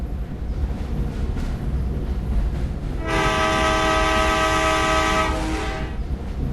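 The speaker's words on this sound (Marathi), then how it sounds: "रेल्वे पुढे जाऊया, जाते ते बघूया आपण." A train in the Indian Bike Driving 3D video game runs with a steady rumble, then a loud, sustained multi-tone horn sounds for about three seconds.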